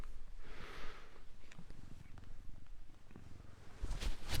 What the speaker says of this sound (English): I'll take my microphone to see if you can hear Beauty purr.